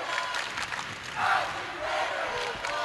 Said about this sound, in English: Both fan bases getting loud.